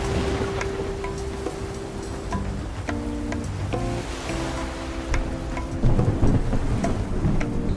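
Thunderstorm at sea in the video game Love and Deepspace: steady rain and rumbling thunder, with tonal musical notes layered over it and a louder surge of storm noise near the end, no voices.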